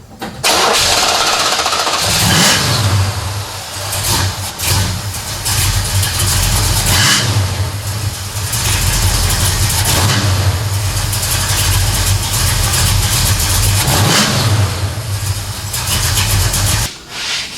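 A 1965 Buick Skylark GS with a 455 V8 cranks briefly, fires up and roars, then is revved in loud sustained blips that settle toward a rough idle before cutting off near the end, heard up close.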